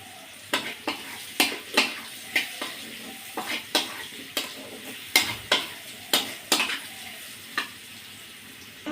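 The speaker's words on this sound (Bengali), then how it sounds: "আমার তরকারিটা ভাজা ভাজা হয়ে গেছে। এবার মশলার গুঁড়োটা দিয়ে দেবো।" A vegetable curry of papaya and potato with small prawns fries and sizzles in a pan while a utensil stirs it, giving a steady series of sharp scraping strokes over a soft continuous sizzle, close and fairly loud.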